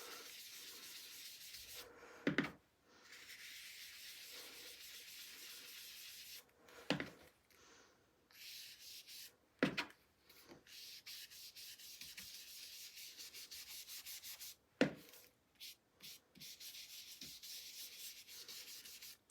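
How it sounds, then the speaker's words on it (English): Blue ink is buffed into card in circular motions, a soft steady rubbing that runs nearly continuously, broken by a few short louder scuffs and brief pauses. "just again start buffing that colour in"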